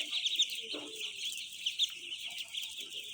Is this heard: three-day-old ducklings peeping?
yes